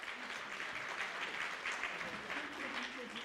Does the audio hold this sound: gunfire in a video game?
no